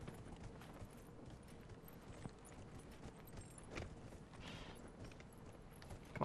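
Horse hooves clip-clop steadily along a road in the video game Dragon Age: Inquisition, a continuous quiet trotting rhythm with no talk over it.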